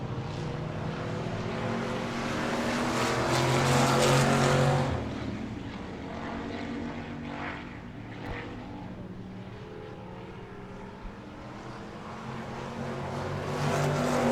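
Dirt track race cars race around Victory Lane Speedway in Manitoba, a loud, continuous engine roar that swells as the pack passes early on, eases into a steady drone, then builds again at the end, with no talk.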